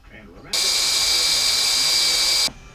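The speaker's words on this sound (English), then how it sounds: "I'll have to drill more." A drill bores holes in small steel parts for a 1/14-scale lowboy trailer, one steady high whine lasting about two seconds, close and loud, starting and stopping abruptly.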